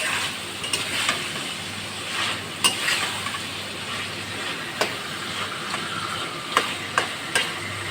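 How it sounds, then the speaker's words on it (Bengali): Chicken gizzards and liver stir-fried in a pan, giving a continuous sizzle broken by repeated sharp scrapes of the spatula against the pan, close and fairly loud. "এটা কষাইয়ে কষাইয়ে একদম ভাজা ভাজা করতে হবে।"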